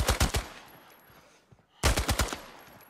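Two quick bursts of automatic gunfire in the shooter game Arena Breakout, each a rapid string of four or five loud cracks, separated by a short, quieter pause with a faint stray shot.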